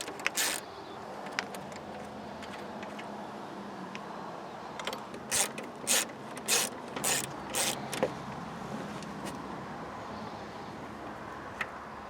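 A ratchet loosens 8mm top radiator bolts on a Nissan Titan, a series of quick close clicking bursts in the middle of the clip over quiet garage background.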